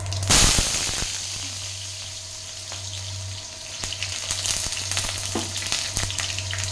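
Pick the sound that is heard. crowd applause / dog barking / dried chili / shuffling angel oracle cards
dried chili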